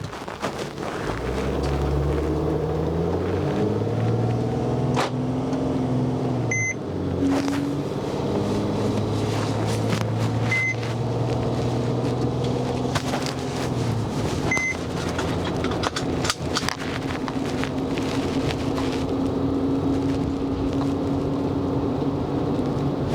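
A 2016 Mercedes-Benz Sprinter van drives along at speed, heard from inside as a steady engine drone with shifting gear tones, road and wind noise, and occasional soft clicks and thumps, with no talking.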